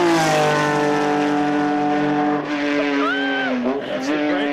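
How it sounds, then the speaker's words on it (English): Race car engine screaming at high revs as it shifts into fifth gear and holds it down the straightaway, loud and close, the pitch climbing steadily, with a brief dip at the shift and a final drop near the end. "Quite fast right here, shifting into 5th gear, and he'll hold 5th gear all the way down the straightaway."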